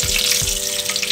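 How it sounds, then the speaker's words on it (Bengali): Bay leaves and dried red chillies hit hot mustard oil in a pan, giving a brief, loud, close crackling sizzle with a couple of low thumps, no talking. "তেল গরম হয়ে গেছে, দিয়ে দিচ্ছি 2 তেজপাতা, দিয়ে দিচ্ছি 2 শুকনো লঙ্কা।"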